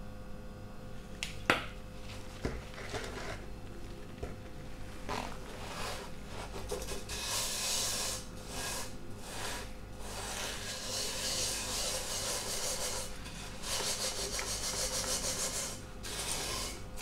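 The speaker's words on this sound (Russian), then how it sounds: "И начинаем чистить весь наш нагар." Salt and vinegar scrubbed over burnt residue on a non-stick pan, a close, continuous gritty rubbing that swells and fades in long strokes, with a few sharp taps early on.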